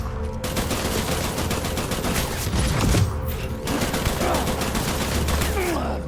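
Dense gunfire from the video game Death Stranding, sharp overlapping shots and bursts crackling throughout over a steady rumbling backdrop, loud and close, with no clear talk.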